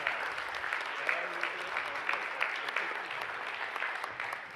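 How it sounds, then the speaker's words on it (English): Warm applause from a congregation at a Unitarian Universalist service welcoming new members, a steady wash of many hands clapping that holds evenly throughout. "how about a warm round of applause for all the new members?"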